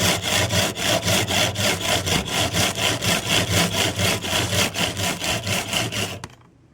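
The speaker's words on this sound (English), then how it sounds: "I'm using a carbide grit saw from Stanley" A Stanley carbide grit saw cuts in quick, steady back-and-forth strokes, loud and close, a rhythmic rasping that runs about six seconds before stopping abruptly.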